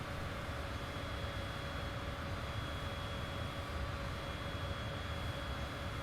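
Steady, even engine drone of an aircraft taxiing in Microsoft Flight Simulator after a cold startup, a constant mid-level rumble with no variation.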